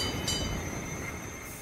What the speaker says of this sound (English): I don't know if this train's gonna keep going forward, if it's gonna go backwards